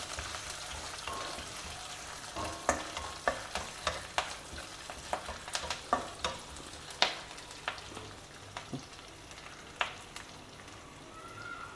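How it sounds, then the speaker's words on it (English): Onions and vegetables stir-roasted in a pan, with repeated sharp scrapes and clinks against the pan at a steady pace over a low sizzle. "Now lightly roast everything till the onions turn a bit translucent."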